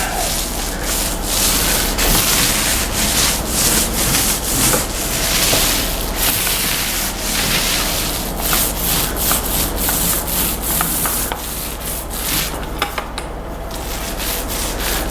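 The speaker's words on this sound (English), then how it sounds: "my roller pad doesn't have a lot of paint on it" A paint roller pushed across an interior wall gives a continuous soft, sticky rubbing swish, close up, with rhythmic strokes and brief pauses and no talking.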